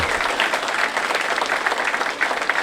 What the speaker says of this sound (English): it's quite all right to clap for P.Hazen